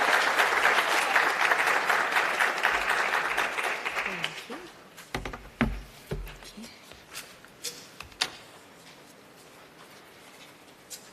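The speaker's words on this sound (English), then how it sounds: "A round of applause, please, for her as she makes her way to the stage." A conference audience applauds steadily for about four seconds as a speaker walks to the stage, then the clapping thins out into scattered claps and small knocks and shuffles.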